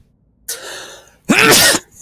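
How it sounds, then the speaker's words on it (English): A single sudden sneeze, close and loud, comes after a short breathy intake, followed by brief quiet. "Suddenly sneezes."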